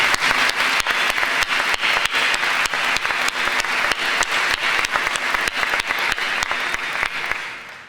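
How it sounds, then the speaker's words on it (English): Dense, steady applause fills a 2023 graduation ceremony hall at Greensboro Day School, with many hands clapping continuously at close range for a speaker until it fades slightly at the very end. "Can you give him another round of applause, please?"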